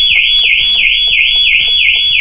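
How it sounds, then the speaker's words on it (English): A Ford Transit Custom van's alarm sounds loud and close, a shrill high tone pulsing in a rapid, even rhythm of about six wails. "at least the alarm system will go off if the door is opened"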